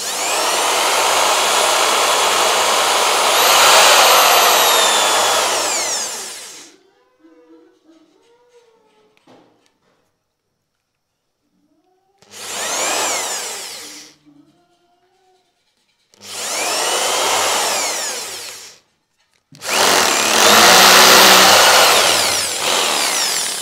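Power drill with a dull, blunt bit boring at length, heard as several long, loud whining bursts separated by pauses, with faint voices in the quiet gaps between runs.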